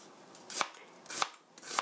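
An onion sliced thinly on a cutting board with a knife for stir-fried pork with mushrooms: three crisp, evenly spaced knife strikes, fairly quiet and close, with nothing else heard.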